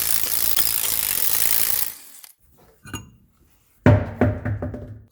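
Air ratchet or impact gun zipping lug nuts off the wheel of a 2006 Honda Civic with a 19 mm socket, a loud sustained burst, then brief mechanical clicks and clanks after a pause.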